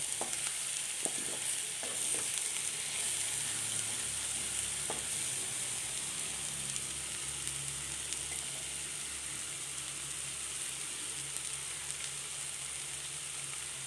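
Anchovies frying on banana stem in a pan, a soft continuous sizzle with a few sharp crackles and scraping stirs early on, heard up close with no talking.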